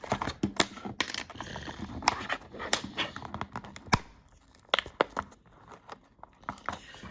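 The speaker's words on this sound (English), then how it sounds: "we have to use scissors for this one because these packages are hard to open up" Scissors cut open the stiff packaging of a diecast Jimmie Johnson Blue Steel INDYCAR, giving a series of sharp close snips and crinkly plastic clicks in an irregular rhythm with pauses between.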